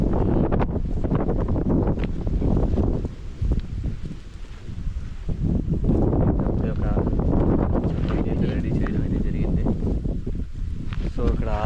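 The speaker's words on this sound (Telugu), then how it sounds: "అసలు ఈ గాలి అనేది చాలా విపరీతంగా అయితే ఉంది." Strong wind buffeting the microphone outdoors on a mountain during light rain at an outdoor cooking spot, loud gusty roaring throughout with rustling, dipping briefly midway.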